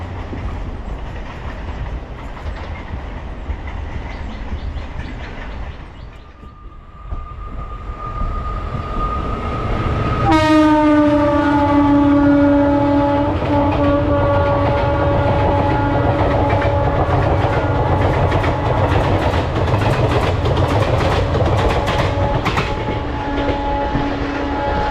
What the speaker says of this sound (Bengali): হচ্ছে তারকেশ্বর লোকাল